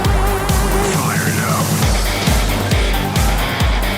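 Race cars roar past one after another on the oval at Langley Speedway, loud engine sweeps repeating every second or so with a steady mechanical drone between passes.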